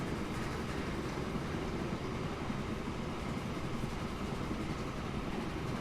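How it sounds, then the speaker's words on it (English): A train in the Transport Fever video game, a steady continuous rumbling drone of rolling cars and engine with no speech. "Eventually, I should stop the train so that we have oil to pick up."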